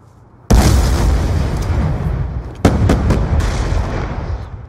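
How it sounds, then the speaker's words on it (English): Grenade blasts in the video game Black Ops 2: a loud, close explosion with a long rumbling tail, then a second sharp blast followed by a few quick pops, with no voices. "You guys have nades? I'm nading it."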